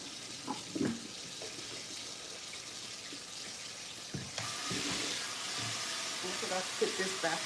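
A kitchen sink fills with water for washing dishes, a steady rushing flow that grows broader and louder about halfway through, with clinks of dishes and a voice in the background.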